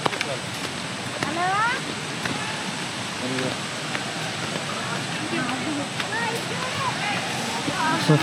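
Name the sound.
waterfall flowing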